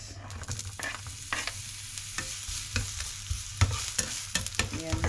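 Onion sautéing in hot olive oil for a tomato-and-egg dish, a steady close sizzle broken by stirring scrapes and occasional louder pops and clacks of a utensil against the pan.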